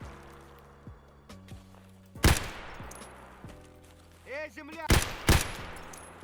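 Two loud, sharp rifle shots from an SKS with a red-and-black scope in Escape from Tarkov ring out a few seconds apart over low background game hum, with footsteps and faint ambient movement between them.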